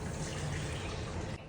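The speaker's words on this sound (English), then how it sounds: "then we're gonna do 2 cups of warm water." Warm water pours steadily into a bowl for bread dough, a continuous close splashing rush lasting about a second and a half before cutting off abruptly.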